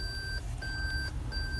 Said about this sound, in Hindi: अगर आप रिवर्स कर रहे हैं तो भी कोई चीज़ आपके करीब आती है तो गाड़ी बीप